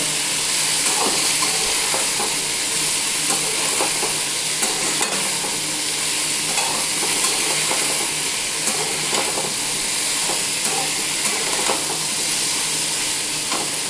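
Pumpkin curry frying in a pan, a loud continuous hiss and crackle of hot oil with a faint scrape of stirring now and then, close and steady with no voices.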